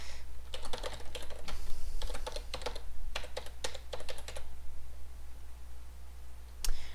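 Computer keyboard typing while editing HTML code, close and clear clicking keystrokes in quick clusters separated by short pauses, over a low steady hum, with a final single key press.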